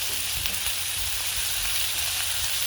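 Garlic shrimp and vegetables sizzle steadily in a hot pot, a dense continuous hiss of frying with soft low bubbling underneath, close and even throughout with no talking.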